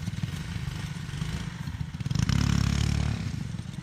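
A trike go-kart motor fitted with a new carburetor runs close by, a steady loud mid-pitched engine drone that swells and revs harder partway through, with a faint rattle over it.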